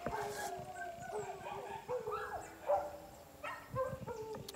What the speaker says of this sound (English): The dogs are making so much noise.